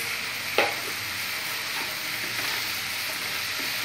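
Boiled noodles and half a portion of rice sizzle loudly in a hot pan, opening with a sharp clatter as the rice drops in, then a steady frying hiss with occasional light stirring knocks.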